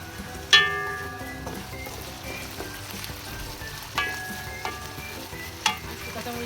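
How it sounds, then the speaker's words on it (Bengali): Shrimp stir-frying with spices in a pan makes a steady low sizzle up close, broken by a few sharp clinks of a utensil against the pan. "চিংড়ি মাছটা দিয়ে একটু নাড়াচাড়া করে একটু কষিয়ে নিতে হবে মশলাটা একটু বাড়াই"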